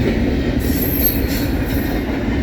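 A Norfolk Southern freight train led by Norfolk and Western heritage unit 8103 rolls through Homestead, Pennsylvania, with close, loud rumbling wheels and a high metallic wheel squeal.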